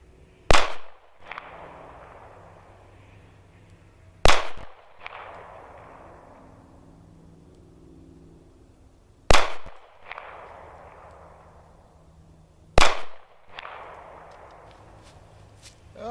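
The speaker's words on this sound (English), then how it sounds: "So let's slow down now and shoot a couple that are aimed shots" Four loud, sharp gunshots from a small carry revolver, aimed and fired slowly at intervals of roughly four seconds, each crack ringing off into a brief echo, with no talking between them.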